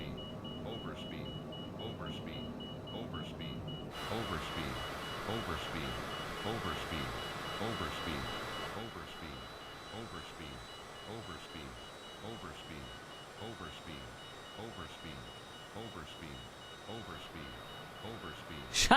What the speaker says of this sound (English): I guess maybe you can't turn the overspeed alarm off.